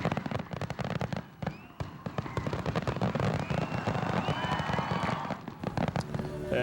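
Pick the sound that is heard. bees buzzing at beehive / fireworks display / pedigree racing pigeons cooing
fireworks display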